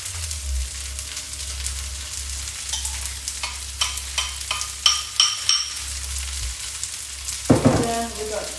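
Eggs frying in a pan with Vietnamese rice noodles, a steady sizzle running throughout, with a series of sharp utensil clinks and scrapes mid-clip and a louder burst of frying near the end.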